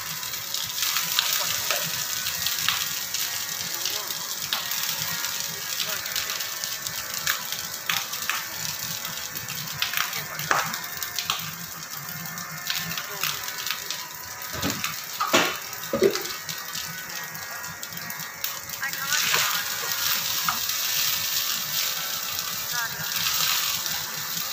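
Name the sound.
jeera rice being stir-fried in a pan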